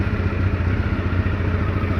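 A Honda 600 motorcycle engine idles at about 1000 rpm with a steady, close, even rumble and light mechanical clatter. No voices are heard.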